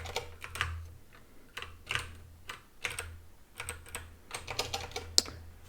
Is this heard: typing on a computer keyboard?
yes